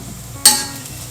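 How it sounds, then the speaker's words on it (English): A sudden burst of sizzling erupts as garlic hits hot coconut oil in a pan, then fades into a softer crackle. "Going to hear a little sizzle."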